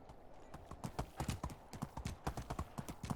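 Horse hooves clip-clop in a steady, brisk rhythm while riding in the medieval survival game Medieval Dynasty, loud and close with no talking over them.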